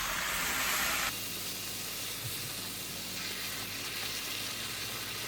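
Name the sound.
vegetables and chili powder stir-frying in oil for jjamppong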